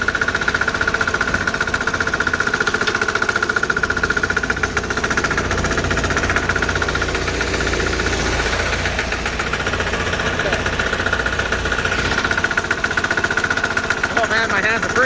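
A diesel Sears Bolens garden tractor engine runs loud and close in the snow, with a steady knocking chug throughout and voices talking over it.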